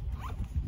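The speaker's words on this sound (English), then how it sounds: "nice zipper. Zipper works really well." A short, close rasp of a zipper being pulled along a Lowepro Nova 140 AW II camera bag pouch, quiet and continuous for under a second.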